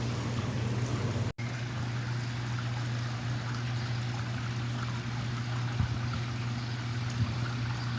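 Water of a babbling brook rushes steadily close by, a constant hiss with a low hum beneath, broken by one brief dropout early on.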